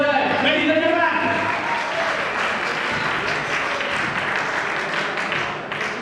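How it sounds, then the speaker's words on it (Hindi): An audience at the Abhiniti 2k20 event bursts into loud, dense applause to welcome a performing group, holding steady before tapering slightly at the end, with some voices audible early on. "एक बार जोरदार तालियों के साथ स्वागत हो जाए"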